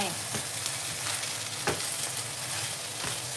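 Egg omelette frying in a hot pan, a steady close sizzle with a few scraping stir sounds, heard on its own with no talk.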